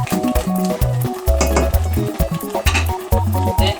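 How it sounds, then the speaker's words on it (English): Edikaikong soup being stirred in a pot, with repeated close scraping and knocking of a spoon against the pot, clinking in an irregular rhythm over a background of faint music. "Just going to keep on stirring it for a while."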